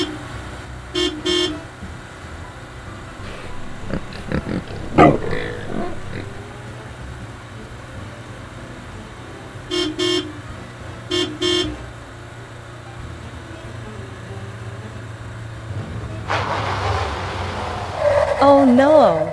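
A cartoon truck drives off with a low running motor hum, broken by several short bursts of toots and honks spread across the scene, with voices and squealing animal sounds near the end.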